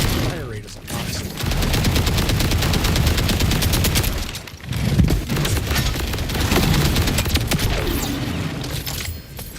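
Dense, rapid shotgun-mode weapon blasts in Borderlands 4 roll on almost without a break, dropping out only briefly twice before the loud firing resumes at a steady, heavy rate.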